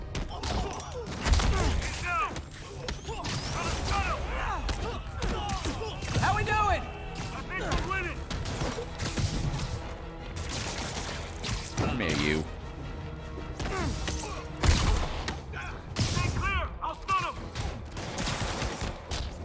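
Rapid bursts of gunfire from Marvel's Spider-Man Remastered ring out amid dense game combat, with thuds and whooshes, while a voice talks over the action.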